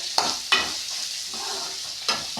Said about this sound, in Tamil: தோலை உரிச்சிட்டு அதையும் போட்டுட்டு நல்லா இது மாதிரி வதக்கிக்கோங்க